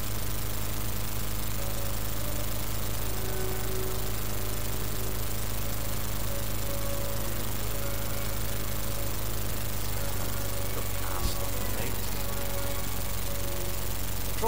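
A World War I fighter plane's engine in the Red Baron flight game drones steadily and loudly throughout, a constant buzzing hum with no talk over it.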